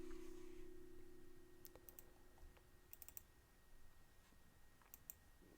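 Faint clicking and tapping at a computer, a few sparse sharp clicks scattered over a quiet background hum, with no talking.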